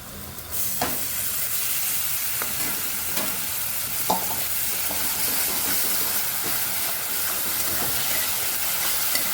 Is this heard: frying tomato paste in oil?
yes